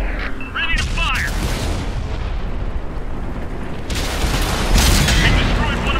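A tank cannon fires in World of Tanks on PS4, one heavy boom with a mechanical reload clank among ongoing battle noise, and a second loud burst follows near the end.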